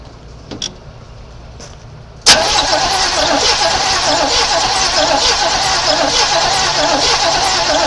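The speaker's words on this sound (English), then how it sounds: "I'm just going to go hit the key and see if I freed this thing up enough that it'll turn over on its own" An abandoned 1986 Chevy C10, sitting unused for 15 years, cranks briefly and fires up, settling into a loud steady running engine after a few faint clicks and taps.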